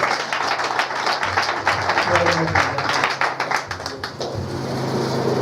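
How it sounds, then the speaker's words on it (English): Workshop attendees applaud a senator with a steady wash of dense clapping that fades a little toward the end, with a voice speaking over part of it. "Please, let's applaud him one more time."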